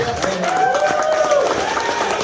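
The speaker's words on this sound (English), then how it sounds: "folks, let's give them a round of applause." A casino-night crowd gives a round of applause, clapping steadily with a continuous tone or voice-like drone running through it, loud and close for the whole short stretch.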